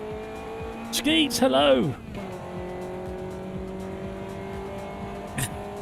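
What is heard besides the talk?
sim racing car engine and tyres while warming up tyres, video game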